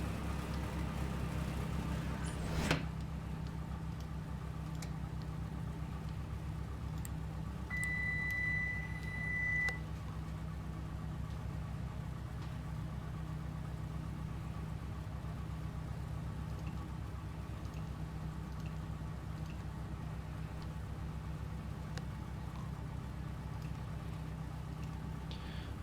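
A Cessna 172 piston engine idles at about 1000 RPM inside a flight simulator, giving a steady low drone that holds level throughout, with a brief beep near the start and a short tone partway through.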